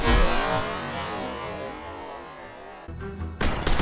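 Rapid pistol shots echo in the tactical shooter Ready Or Not as a full magazine is emptied, starting with a loud burst that rings out and decays, then more sharp cracks close together near the end.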